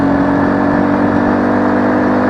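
XPro 125 X-25 cafe motorcycle with a 4-speed gearbox, its small engine held at high revs in a steady, loud, continuous drone with a strong constant pitch, close by and with no talking.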